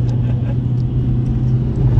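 Drag race between a CNG Maruti Swift and a CNG Fiat Punto: loud, steady engine drone with a deep low rumble, heard close and continuous.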